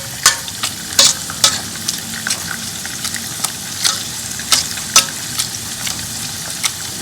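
Onions cooking in a pan for jeera rice, a continuous sizzle broken by repeated sharp clicks and scrapes of stirring at an uneven rhythm, close and clear with no talking.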